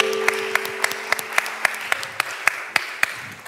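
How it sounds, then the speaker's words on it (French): Audience at a church music program applauding a young pianist, a steady burst of clapping with a faint sustained tone beneath it. "est-ce qu'on peut acclamer le Seigneur pour Héros?"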